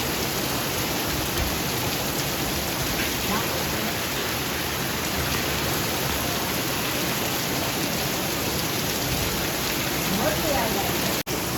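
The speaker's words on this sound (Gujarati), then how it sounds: "એક ધારો આવવાનો આવો વરસાદ વરસે છે." Heavy rain falls in a dense, unbroken roar that stays steady and loud throughout, with no pauses and a brief dropout right at the end.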